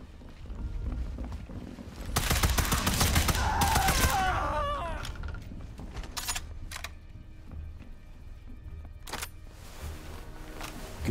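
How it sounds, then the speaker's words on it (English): Submachine gun fire in the Sniper Elite 5 video game: a loud, dense burst of rapid shots followed by a few scattered single reports and mechanical clicks, close and dominant over quieter game ambience. "Submachine gun."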